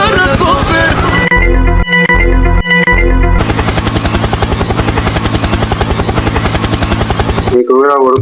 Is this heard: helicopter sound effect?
yes